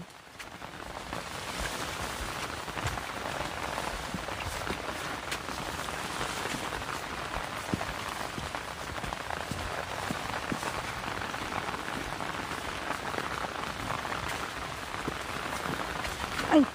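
Steady rain pattering on a surface, a dense continuous hiss with scattered drops, unbroken and fairly close throughout.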